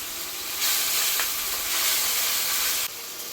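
Coriander and cumin paste with a splash of water hitting a hot pan, a loud, bright hissing sizzle that flares up and holds for a few seconds before dropping back.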